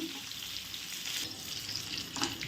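Stuffed brinjal frying in oil over a medium gas flame for a homemade bharli vangi, a steady close crackling sizzle with no talking.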